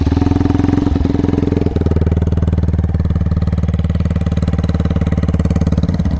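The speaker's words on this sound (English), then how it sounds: "now I'm gonna start up the bike and you will see what its idling decibels are" A Brixton Felsberg 125 motorcycle with a megaphone exhaust idles loudly up close, its exhaust pulsing in a fast, steady, throaty rhythm with a slight stumble early on.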